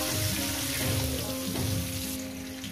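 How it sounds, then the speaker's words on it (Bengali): Potatoes frying steadily in a pan, a dense continuous sizzle with a faint mechanical hum underneath, close and even throughout with no talking. "আমি এটাকে মিনিমাম 5 মিনিট ধরে আলুগুলো আমি ভেজে নেব"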